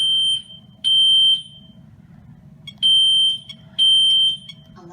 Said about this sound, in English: it sounds like a smoke alarm